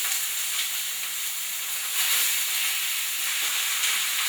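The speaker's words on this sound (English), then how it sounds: "Just add our chicken pieces, skin side down." Chicken pieces laid skin side down in smoking-hot oil for 40 cloves of garlic chicken, giving a loud, steady broadband sizzle and hiss with faint crackles throughout, no talking.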